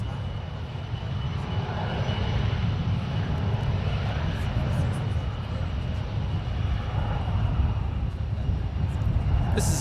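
A SkyWest Bombardier CRJ200 regional jet, about 18 years old, departing San Francisco International Airport, a loud sustained engine roar and rumble that holds steady with broadband jet noise from a distance.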